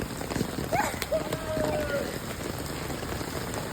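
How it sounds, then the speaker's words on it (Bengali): Rain falls steadily on a street, a soft continuous patter throughout, quiet overall, with a brief faint tone and some distant movement in the background. "বৃষ্টিতে ভিজে না, বৃষ্টিতে ভিজে না।"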